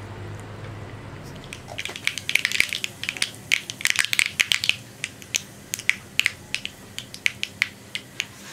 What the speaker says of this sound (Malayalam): നമ്മുടെ കടുക് പൊട്ടിക്കഴിഞ്ഞിട്ടുണ്ട്